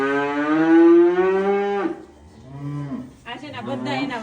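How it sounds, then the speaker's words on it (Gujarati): Cows in a cattle barn in Germany give long, loud, close moos, one drawn-out call followed by shorter lowing from others, with no talk over them. "અહીંયા બધી બહુ મોટી મોટી ગાયો છે."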